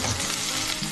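Whole spices and shahjeera sizzle in a hot pan with a dense, bright, continuous crackle, loud and close with no talking.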